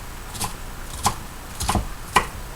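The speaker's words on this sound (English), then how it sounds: "chopping the vegetables is basically no rhyme or reason. Just chop them up best you can." A knife chops vegetables on a home kitchen board, giving four crisp, separate chops at an uneven pace against a quiet background, with no one speaking.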